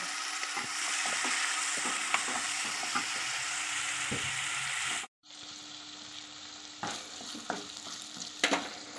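Onion, green chilli and small tomato pieces sizzling steadily in a pan while being stirred, with scraping clinks; the frying briefly cuts out, then resumes with softer sizzle and stirring sounds.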